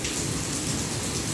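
Steady rain pours on a surface in cold, windy weather, a dense even hiss that continues without a break and with no voices.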